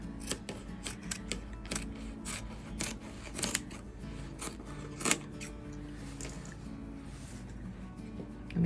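Scissors snip through drawn paper patterns for a sewing craft, a run of short, close cuts with rasping blade strokes and brief pauses between them.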